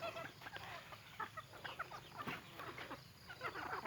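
Jungle fowl cluck on a free-range farm in a run of quiet, repeated short calls, faint and a little distant, over a soft outdoor background.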